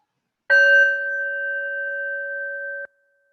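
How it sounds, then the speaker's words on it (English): A single bell struck to open a meditation session, one clear bright strike that rings on as a steady, pure sustained tone for over two seconds before stopping abruptly, heard alone. "And I'll start again with the bell."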